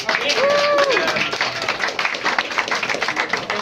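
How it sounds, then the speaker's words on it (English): Audience clapping and cheering fills the room, a broad steady burst of applause with whistles rising over it, tapering slightly toward the end. "Give them a big round of applause again."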